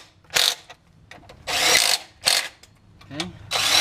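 Power drill working on a 1998-2002 Honda Accord transmission during removal, several loud bursts of whirring and ratcheting separated by short pauses, close up.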